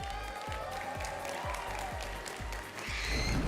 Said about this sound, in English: let's cheer them on and show our support